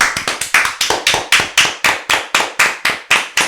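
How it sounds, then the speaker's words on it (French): A man applauds himself with around twenty sharp hand claps in a fast, steady rhythm, close and loud, with no speech. "Je m'auto-applaudis"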